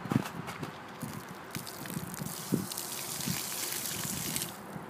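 Dirty water from cleaning a car splashes and trickles steadily onto snow, with a few thumps and dribbles mixed in.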